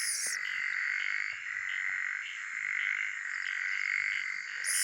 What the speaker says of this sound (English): Sound of crickets.